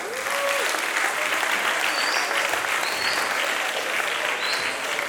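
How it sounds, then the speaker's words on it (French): An audience at a village nature-conservation show gives steady, dense applause, loud and close, sustained throughout with a faint voice briefly rising through it. "Est-ce qu'on peut encore l'applaudir très très fort?"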